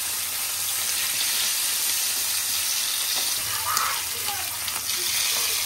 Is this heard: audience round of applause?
no